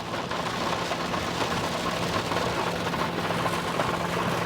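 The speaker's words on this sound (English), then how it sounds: "The rain is coming down." Heavy rain pours steadily onto a new Ford truck climbing a big mountain pass, a dense, constant hiss of drops drumming on the body with a low rumble underneath and no letup.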